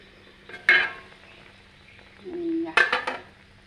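A metal lid comes off a pan of simmering fish curry, with two bright clanks against the rim separated by a short scraping slide, close and clear.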